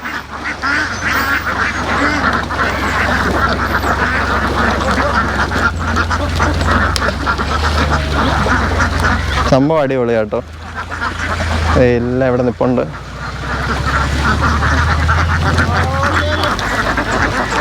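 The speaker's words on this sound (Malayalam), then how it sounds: "ഒരുപാട് താറാവുകളുണ്ട്" A flock of ducks coming in as a group across the Punchakkari paddy fields at Vellayani quacks in short, loud bursts over steady outdoor noise, while a person talks nearby.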